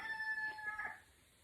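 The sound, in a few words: rooster crowing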